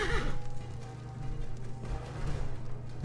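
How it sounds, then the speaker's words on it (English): A brief horse neigh plays as a character climbs into power armor in the video game Fallout 4, over a steady low engine-like drone and game ambience, with no one talking. "You get a little horse neigh whenever you get into it."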